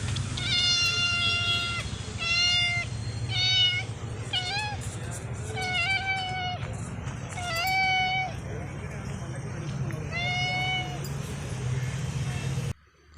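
A stray cat meows repeatedly in a series of clear, drawn-out calls, close by, over a steady low background hum with faint voices.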